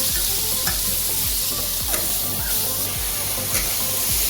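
Tomato frying in a pan, a steady loud sizzle with repeated scraping strokes of a spoon stirring through it at a regular rhythm, close up and with no talk.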